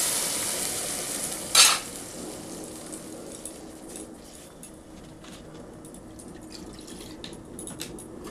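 Dal hits hot oil with mustard seeds for a sambar, a sharp hiss flaring at the moment it lands and then settling into a steady, close sizzle that fades slightly over several seconds, with no talking.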